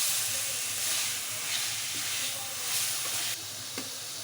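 Half a kilo of chicken with masala frying in oil in a pot gives off a constant loud sizzling hiss, close by, with a faint clink near the end and no talking.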